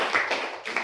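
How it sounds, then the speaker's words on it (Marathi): A classroom of students gives a brief round of applause for a classmate, a quick patter of claps heard close up for under a second. "नोट टाकले अश्विननं, त्यासाठी टाळ्या वाजवा."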